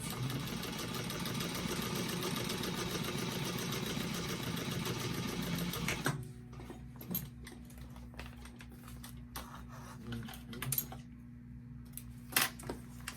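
A sewing machine stitching back down a pocket seam on a Molly bag, a steady rapid whirring run that stops abruptly, followed by quiet clicks and small handling noises.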